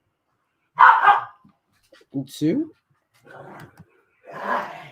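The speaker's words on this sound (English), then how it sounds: "Dogs are barking in the background." Dogs bark in the background, a few short bursts at moderate distance, interleaved with a voice counting aloud.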